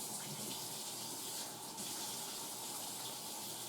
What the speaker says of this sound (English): let me wash my hands right quick here